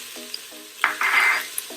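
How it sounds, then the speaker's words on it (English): Carrots and beets sautéing in a pot, a soft sizzle broken by a few brief scraping stirs and one louder burst of frying hiss, with faint clinks of a utensil. "You can hear the sizzling"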